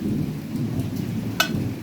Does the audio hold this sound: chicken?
no